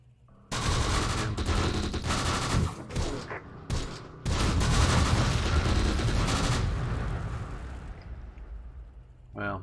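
Heavy gunfire and explosive bursts in the wartime strategy game Close Combat: The Bloody First, with mortars falling on the enemy, roar in long dense volleys with a brief break between them. A voice talks underneath.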